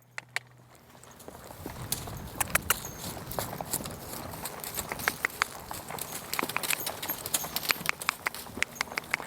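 A long-haired horse trotting under bridle in a riding class, its hooves clip-clopping in a quick, even rhythm that grows louder and steadier.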